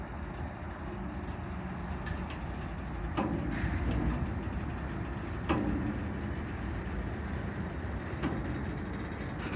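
A long CSX freight train starts moving again, locomotives pulling a line of cars past a blocked crossing; a low steady rumble with periodic clanks and jolts as the cars take up slack, heard from a nearby car.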